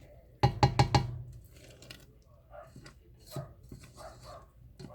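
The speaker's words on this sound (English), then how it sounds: "I hear the outside dog barking next door." A dog barking outdoors next door, a quick burst of four sharp barks followed by fainter scattered noises, distant-sounding and fairly quiet.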